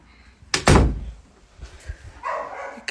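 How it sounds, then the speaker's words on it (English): A house door shuts with one loud thud near the start, followed by quieter knocks and a faint dog barking in the background. "Look, let me close this door."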